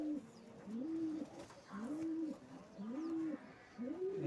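A pigeon coos in a loft, four rhythmic low rolling coos at an even pace, near but fairly soft with a quiet background.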